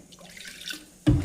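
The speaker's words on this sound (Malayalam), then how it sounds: "1/4 കപ്പ് വെള്ളം കൂടെ ചേർക്കണം." Water poured into a millet mixture, a quiet trickle at first, then a sudden louder splash of liquid at the end, close and with no talk.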